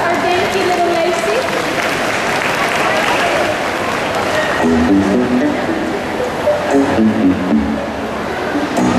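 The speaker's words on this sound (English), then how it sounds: "round of applause" Audience applause at a live performance: a steady wash of clapping from a crowd, continuous throughout at moderate loudness.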